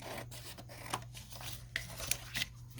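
Scissors trim the edge of a vintage book page with a handful of quiet, crisp snips and soft paper rustles spaced irregularly.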